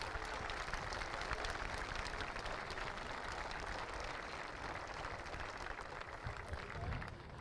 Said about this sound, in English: can we just get a big round of applause for a great show for these 4 gladiators?